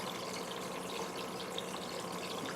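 Water swishes and trickles steadily as a Chiapas giant Mexican musk turtle is lowered back into her tank, a soft continuous wash with no voices.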